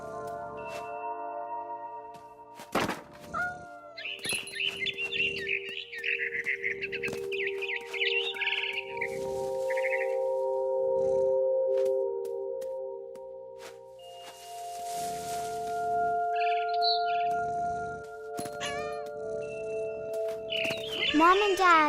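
A barn swallow near its nest in What Remains of Edith Finch gives repeated bright chirps and fluttering trills in clusters, set against soft sustained tonal music, with a few sharp clicks and movement sounds.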